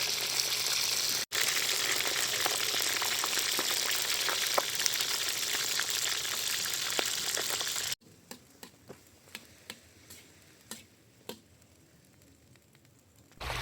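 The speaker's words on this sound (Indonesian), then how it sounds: "Sebuah wajan portabel sudah bertengger di atas kompor dengan minyak yang mulai memanas." Seasoned fresh fish frying in hot oil in a portable pan on a camp stove sizzles loudly and steadily, then drops to sparse, quieter crackles and pops.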